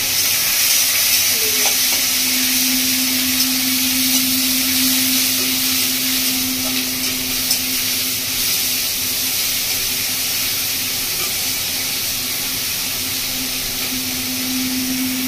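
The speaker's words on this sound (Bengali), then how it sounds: "এবার দিয়ে দিচ্ছি কুচনো পেঁয়াজ" Chopped onions frying steadily in hot oil in a pan, a loud, continuous sizzle that carries on unbroken throughout, with a faint tonal hum underneath and no talking.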